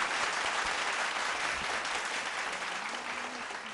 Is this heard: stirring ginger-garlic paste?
no